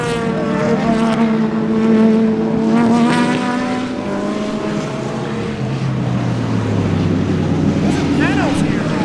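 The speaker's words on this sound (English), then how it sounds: "There's a Toyota Tundra race car." A Toyota Tundra race car with a big 5.9 liter engine roars at a vintage racing event at Sebring, its engine note sweeping up and down through gears, loud and close, with talk mixed in.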